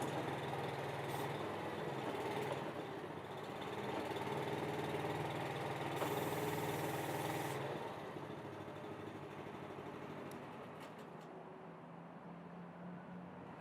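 The Athena 850 HE tracked machine's engine runs steadily at a constant idle-like drone, close and continuous with no pauses and no voices.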